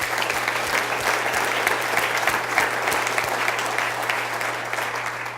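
A room full of staff at an all-hands meeting applauds, a dense, even wash of clapping that holds steady and fairly loud from start to finish with no talk over it.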